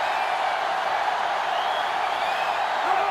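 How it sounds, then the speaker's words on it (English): Stadium crowd in the NCAA Football 2005 video game on GameCube, a dense, steady roar of cheering that holds at one loud level for about three seconds with no clear breaks. "this crowd is going absolutely insane"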